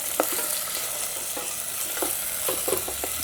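Tomatoes with a light pinch of salt cook down in a pan, giving a steady close sizzle broken by a few short scrapes of a stirring spoon, with no voices.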